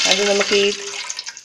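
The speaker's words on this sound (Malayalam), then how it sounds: "ഇപ്പം ഞാൻ വെള്ളം ആഡ് ചെയ്തിട്ടുണ്ട്" Water is poured into the pan used for boiling eggs, ready for cooking Kerala-style noodles. The splashing pour runs briefly and settles, with a person talking over it.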